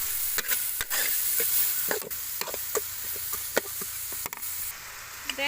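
Ginger sizzles in a pan with a little fish sauce, a steady close frying hiss broken by the scrape and clatter of stirring.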